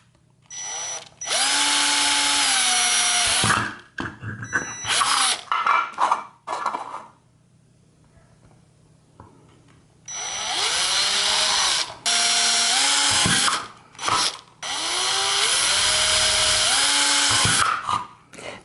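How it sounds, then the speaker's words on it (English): A power drill boring holes for wiring, in bursts: a long whine of about three seconds, several short stuttering pulses, a pause, then more long runs with pitch shifts as the bit loads and frees, close and loud with no talking. "So let's drill some holes here for the wires to run through."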